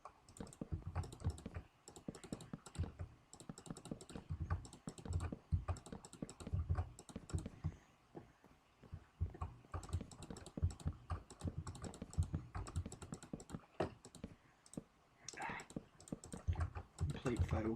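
Fingers tap away at a laptop keyboard in rapid, irregular bursts of soft clicks with short pauses, close and fairly quiet, while building in Minecraft.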